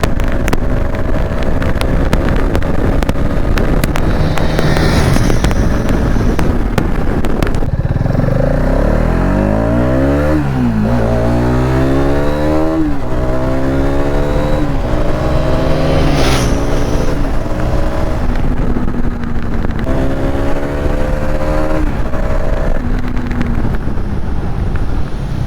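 A Hero Xtreme 250R motorcycle engine under way, revving up and shifting through rising and falling pitch sweeps, loud and close with heavy wind buffeting over the microphone.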